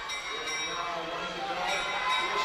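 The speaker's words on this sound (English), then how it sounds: "Bell lap" A bell rings steadily for the final lap at a long track speed skating championship, a bright sustained tone heard under an arena crowd and a commentator's voice.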